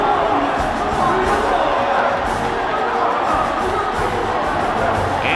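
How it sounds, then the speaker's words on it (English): A video game stadium crowd fills a domed arena before a Sugar Bowl matchup in NCAA Football 2005, a steady, loud, dense roar of spectators holding level throughout with no breaks. "The crowd is filling up the dome"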